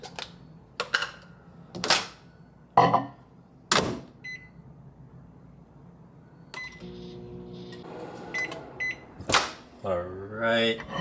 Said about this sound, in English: throw it in the microwave for like 30 seconds and let it defrost